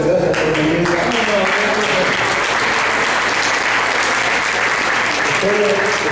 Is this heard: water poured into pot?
no